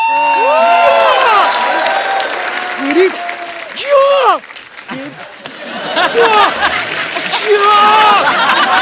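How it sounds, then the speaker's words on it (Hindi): A studio audience on a comedy talk show bursts into loud applause and cheering for a winner, with shouting and whooping voices above the steady clapping. "सेलिब्रेशन, जोरदार तालियां"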